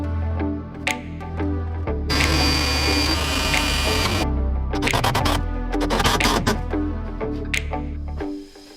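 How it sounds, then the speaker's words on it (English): A screw being driven to fasten a brace inside a Chevrolet Equinox glove box during a repair, heard as two sustained whirring, grinding bursts from a close power driver, separated by quieter handling noises. "I think we'll screw it in place now"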